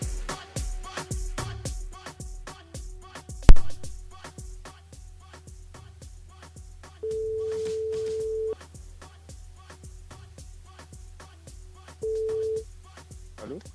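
Telephone ringing tone on a call to a radio listener during a live evening show, heard as two steady electronic tone bursts separated by a pause, over a quiet rhythmic music bed.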